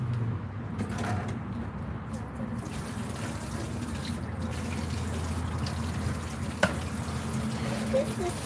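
Water runs and trickles steadily over a big catfish being rinsed outdoors, a continuous splashing flow close by with a brief knock partway through and speech faintly around it.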